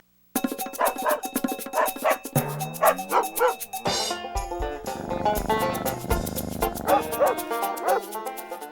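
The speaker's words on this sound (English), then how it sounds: "a little Chihuahua Dachshund mix, and he came to us originally from Puerto Rico as a street dog" A small Chihuahua Dachshund mix, a former street dog, gives a run of sharp, high yips and barks up close, with whimpering tones and some background noise between bursts.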